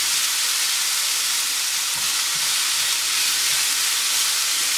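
Chicken sandwich ingredients sautéing over a high flame, a steady close sizzle and hiss of frying with faint stirring, continuous and even throughout.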